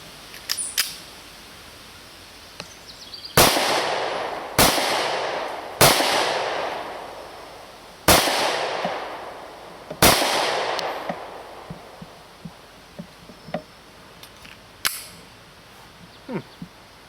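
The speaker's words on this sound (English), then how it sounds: "I'm going to shoot a few rounds downrange to see how it feels" A Kahr PM40 pistol fires .40 S&W rounds outdoors: five or six sharp, loud shots at uneven intervals, each with a ringing decay, followed by quieter clicks and handling noises.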